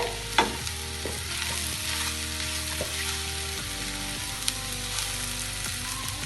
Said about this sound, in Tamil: தேவையான அளவு உப்பு இதை போட்டு நல்லா வதக்கிக்குவோம்